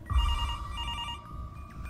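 A telephone rings in an Easter-themed horror video game, a clear electronic trill repeating in short bursts over a low rumble, with no talking.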